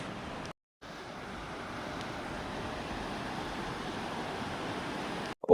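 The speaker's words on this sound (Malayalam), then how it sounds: "അപ്പം പുഴയെല്ലാം കരകവിഞ്ഞൊഴുകുകയാണ്" Broad, steady rushing of a river in flood pouring over its banks near a bridge, at a festival site in Kannur; the roar stays constant and moderately loud throughout, with no voices.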